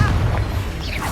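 A Confringo fire spell exploding in a wizarding action game, one low booming burst with a rumbling decay lasting about a second.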